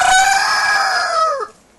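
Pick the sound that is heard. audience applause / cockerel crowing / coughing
cockerel crowing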